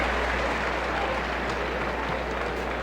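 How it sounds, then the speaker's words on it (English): A basketball crowd claps steadily and loudly throughout an Indiana at Illinois game in 1996, a dense, continuous wash of applause from a packed arena. "As I heard those claps really well."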